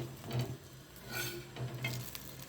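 A bread omelette frying in ghee in a pan gives off a soft, low sizzle, with faint stirring and scraping sounds in close quiet.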